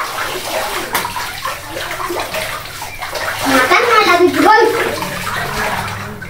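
Water pours steadily into a makeshift home swimming pool, a continuous rushing splash that swells slightly midway, with children's voices chattering over it.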